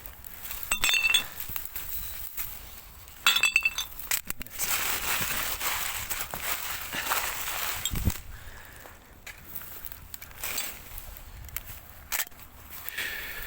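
Broken glass pieces clink and rattle as they are picked up and gathered outdoors. Bright clatters come in bursts, mixed with rustling and footsteps at close range.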